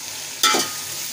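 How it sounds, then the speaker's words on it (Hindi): Chana dal is stir-roasted in a pan, one short scraping sweep with a brief sizzle, close and fairly loud against a quiet hiss. "दाल को अच्छी तरह भून लें, अच्छी तरह से भुनाई कर लें।"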